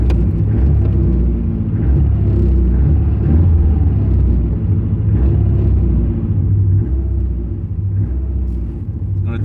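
An old carburetted car engine runs on old fuel during a slow test drive, a loud, steady low rumble with slight fluctuations in revs and faint mechanical clatter on top.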